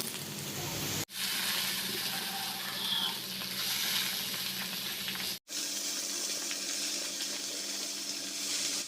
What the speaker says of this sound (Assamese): তাৰ বাবে মই ইয়াতে পিঁয়াজ দি দিলোঁ আৰু জলকীয়া এটা কাটি দি দিলোঁ